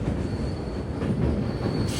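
A train on the Rameswaram to Mangaluru Express route passes by near the vertical lift bridge, a steady loud rumble of wheels on rails with a faint high squeal, and no voices.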